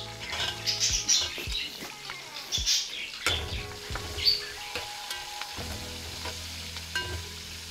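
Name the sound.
chopped onions frying in oil with spices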